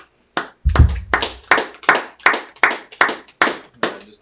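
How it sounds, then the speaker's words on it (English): A congregation at a Sabbath church service claps in a steady, even beat: about ten loud, sharp claps spaced roughly evenly, all together, with no talk over them. "Now, clap it up for the brother."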